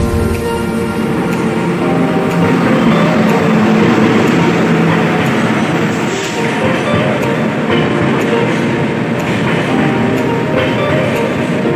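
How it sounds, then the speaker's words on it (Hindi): A train rolls loudly into a station, its wheels and carriages rumbling steadily throughout with a few faint clicks over the heavy continuous noise. "फाइनली ट्रेन आ गई है।"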